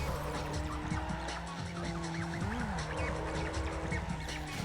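Mazda MX-5 sliding through a drift race in Need for Speed Underground, its engine droning steadily as tires squeal and skid in a continuous, loud wash of game audio with music underneath.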